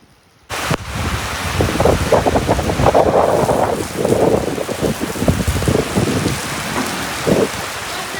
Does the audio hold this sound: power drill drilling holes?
no